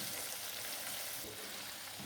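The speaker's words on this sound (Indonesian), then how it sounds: "Nah, ikan teri biasanya dia kan suka meletup-meletup." Anchovies fry in hot oil with a steady, faint sizzle, spattering crackle all the way through and no voices over it.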